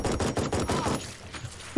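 Machine gun fire in the Jagged Alliance 3 tactical game, a dense burst of rapid rattling shots for about a second that then tapers into a quieter tail, loud and close.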